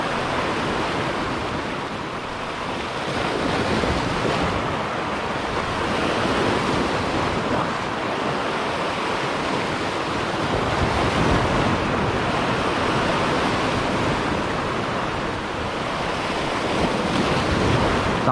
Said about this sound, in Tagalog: Sakto lang yung alon ngayon mga buddy